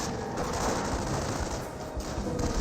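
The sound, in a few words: gunfire from snipers in the video game Company of Heroes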